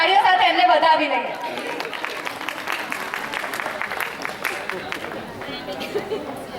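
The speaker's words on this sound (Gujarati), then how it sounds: "તો ચાલો તાળીઓ સાથે એમને વધાવી લઈએ." Audience applause at a parish day celebration welcoming a comedy skit team, a burst of clapping and crowd chatter in a hall that carries on under a voice speaking over it.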